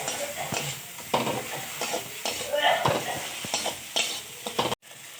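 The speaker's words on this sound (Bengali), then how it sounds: "এবার আমি এর মধ্যে যে কেটে রাখা যে টমেটোগুলো ছিল, সেই টমেটোগুলো দিয়ে কিছুক্ষণ সিদ্ধ হওয়ার আগে পর্যন্ত কষিয়ে নেব।" Chopped tomatoes sauté in hot oil for a fish curry, sizzling under repeated scraping strokes of a spatula against the pan in an uneven rhythm, before a sudden cut near the end.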